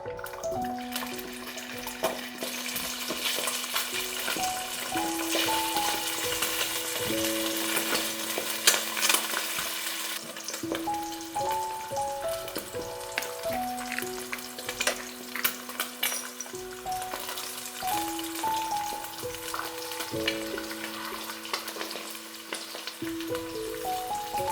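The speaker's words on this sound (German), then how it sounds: "Spiegelei und Mini-Würstchen mit wenig Salz und Pfeffer braten." Fried eggs and mini sausages season in a pan with a little salt and pepper, giving a steady, moderate sizzle and crackle throughout. Background music plays softly and no one speaks.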